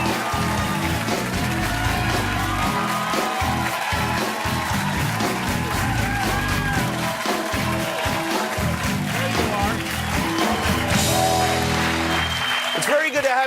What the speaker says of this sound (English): I knew I was going to get that kind of applause.